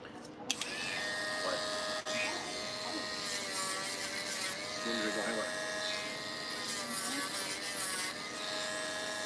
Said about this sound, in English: Sometimes you have to have a drum sander handy.